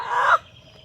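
A chicken lets out a single short cluck, loud and close, then falls quiet.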